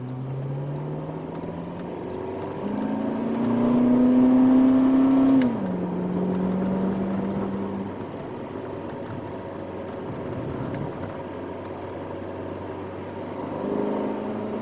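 A Ferrari California T with a 560 cv engine accelerating, its harmonic note rising in pitch to a loud peak, then easing off and settling into a steadier drone as the car continues, with no talking.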